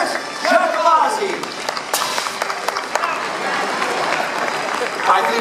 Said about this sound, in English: Let's give a round of applause for Mr. Joel Cornell, Mr. Matt Bowles, and the man on fire, Mr. Chris Giacalazzi.